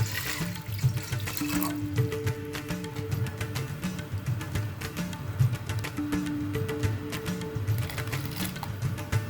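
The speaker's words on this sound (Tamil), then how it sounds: "இப்போ நம்ம தேவையான அளவுக்கு தண்ணி போட்டுக்கோம்" Water runs and splashes steadily into a cooking pot for several seconds, close by with a faint hum underneath and no speech.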